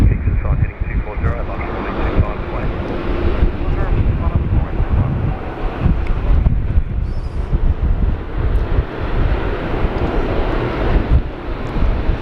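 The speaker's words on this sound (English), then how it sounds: "Oh, and an Embraer landing." Embraer 190 Qantas Link airliner landing at Sydney Airport on a windy day, a loud continuous engine roar heavily buffeted by wind noise, with someone talking over it.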